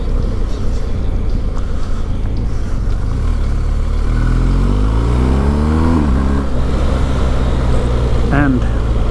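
A KTM 1290 Super Adventure R motorcycle from 2021 rumbles at a steady pace, then its revs rise through the gears and fall away, with wind noise throughout on a test ride.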